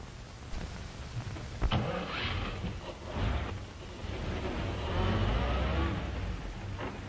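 A car starts up and drives off in a 1931 film, a brief starter burst followed by a rising engine drone that carries on steadily, moderately close, with no talk.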